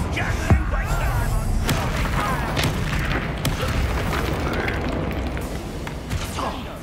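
Booming fire blast of the Confringo spell in Hogwarts Legacy, a sustained loud rumbling roar with crackling bursts and sharp pops throughout, amid dense combat noise.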